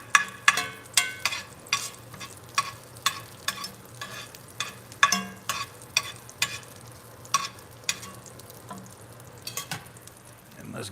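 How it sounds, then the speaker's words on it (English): Onions are scraped aside on a sizzling pan while hamburger steak cooks. Repeated sharp spatula scrapes and taps sound close over a steady frying hiss. "let's get all these onions scraped up to the side here"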